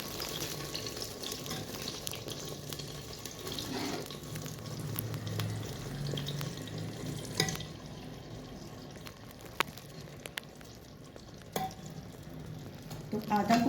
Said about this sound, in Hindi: ये सिजलिंग साउंड आपको सुनाई दे रही है